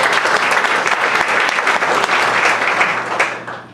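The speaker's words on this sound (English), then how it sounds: "let's give Trinity a big round of applause" Audience applause for a scholarship winner at an RCAS meeting: close, loud, dense clapping from a room of people, sustained and then tapering off at the end.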